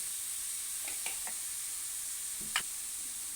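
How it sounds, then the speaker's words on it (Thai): Kale stir-fry cooking in a pan, a faint, steady sizzle with a few soft scraping taps from stirring, two close together near the start and one sharper one later. "เดี๋ยวเราก็คนให้มันสุกแป๊บหนึ่งนะครับ"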